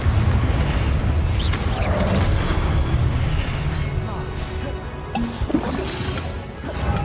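Repeated Confringo fire-blast spell explosions in Hogwarts Legacy boom and crackle in a dense, continuous barrage of blasts and fiery bursts, loud and close throughout.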